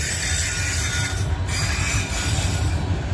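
Freight train wheels squeal steadily on the rails as cars roll past at a siding, a continuous high-pitched screech over a low rumble, loud and close with no talk.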